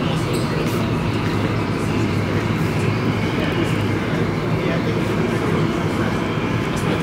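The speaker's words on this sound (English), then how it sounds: "We gotta get on the train to get to the baggage claim" A steady, loud rumble of an airport train in motion carrying passengers to baggage claim at the Las Vegas airport, continuous and droning throughout, with a voice faintly heard under the noise.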